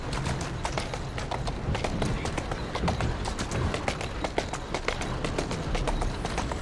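Horse hooves clip-clop in a steady, brisk rhythm in Assassin's Creed Syndicate, close and continuous across the whole stretch over a busy low rumble of street ambience.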